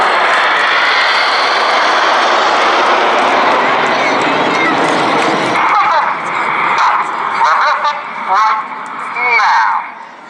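Red Arrows jets roaring past in formation at an armed forces day air display, a loud sustained jet rush that thins out, followed by a crowd murmur and scattered bursts.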